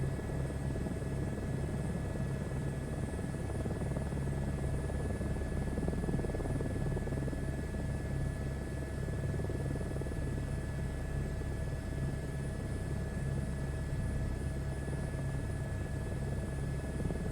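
Airbus H125 turbine helicopter flying in a Microsoft Flight Simulator 2024 career mode, a steady, continuous rotor and turbine drone with a constant whine, loud and unbroken throughout with no talking.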